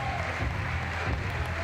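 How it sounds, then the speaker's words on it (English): A crowd applauds both boxers at a World Boxing Cup finals session in Sheffield, a dense steady clapping filling the arena for a short burst. "A round of applause, both boxers."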